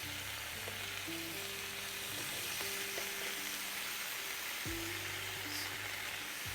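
Lamb koftas go into a hot pan and sizzle, a steady, fairly quiet frying hiss that runs the whole time with some clinks and scraping along the way.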